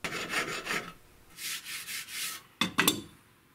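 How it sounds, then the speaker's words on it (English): Hand plane and sandpaper worked over a wooden sawhorse, a series of rhythmic rasping strokes, several long passes then two quick sharp ones, close and alone. "A hand plane and lots of sanding to 220 prepared these for the tung oil finish."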